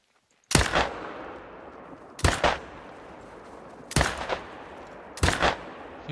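Four sharp, loud rifle shots ring out at roughly even intervals, each with a short fading tail, as a hunter fires at buffalo in the video game theHunter: Call of the Wild on the Vurhonga reserve.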